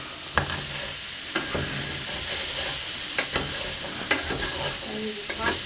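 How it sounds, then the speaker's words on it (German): A spoon stirring ground meat with Maggi Bauerntopf mix in a pot on the stove, over a steady sizzling hiss, with a few sharp clanks of the spoon against the pot rim. "Einmal umrühren."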